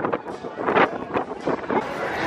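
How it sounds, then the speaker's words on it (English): Gusty wind buffets the microphone outdoors on a windy day in Las Vegas, a steady rushing roar rising into several louder swells, close and fairly loud with no speech. "It's a windy day in Vegas."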